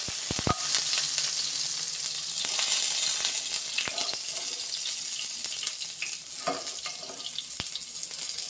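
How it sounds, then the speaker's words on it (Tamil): Loud, steady sizzle of oil frying in a pan for a simple chicken stew, with a few sharp pops and light stirring clicks layered over the continuous hiss, close up and without speech. "போட்டு நல்லா பொரிஞ்சு வரட்டும்."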